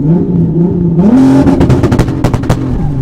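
A car accelerates hard from a standstill with a loud rising engine roar, broken by sharp popping crackles and quick pitch drops as it flat-shifts through the gears.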